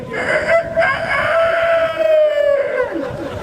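A man imitates a rooster crowing with his voice, a loud, drawn-out cock-a-doodle-doo with a rising then sustained falling tone, close and clear.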